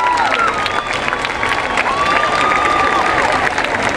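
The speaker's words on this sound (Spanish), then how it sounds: "Un aplauso, por favor" Crowd applause and cheering welcoming the mayor at an outdoor Christmas tree lighting on the Malecón 2000 in Guayaquil. The clapping is steady and dense throughout, with whistles and voices rising above it.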